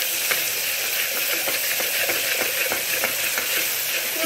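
Ginger garlic paste sautéing in hot oil for Chettinad mutton chukka, a steady close sizzle with bright crackling and faint stirring scrapes throughout, no voices.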